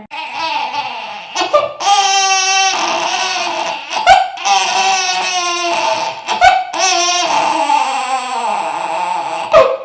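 A voice mimics an infant's wailing cries in three long, warbling bursts separated by short gasps, loud and close.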